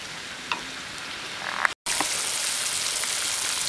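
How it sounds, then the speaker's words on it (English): A pot of vegetable clear soup at a boil, a steady hissing bubble with a few small pops, briefly cut to silence near the middle and then resuming at a slightly louder level. "Keep it to boil for 5 to 6 minutes."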